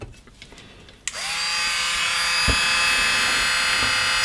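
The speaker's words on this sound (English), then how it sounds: "Now I'll try to drill a hole, the leading hole" A power drill starts abruptly and runs at a steady high whine, drilling small pilot holes through material with a slight rise in pitch; a faint tap follows midway.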